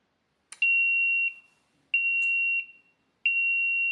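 Three long, steady electronic fire alarm tones, triggered from a phone app, each lasting under a second and separated by short gaps, each opening with a brief chirp.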